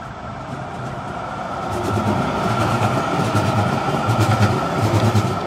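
A tram rolls past on rails in a German street, a rumbling, swelling roar with rhythmic wheel clatter that grows louder midway and stays close.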